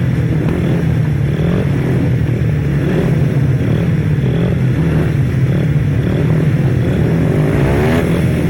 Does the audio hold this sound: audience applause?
no